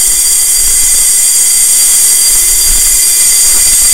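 Loud, sustained high-pitched squealing of train wheels grinding on the rails, a constant piercing whine over a low rumble, with no talk.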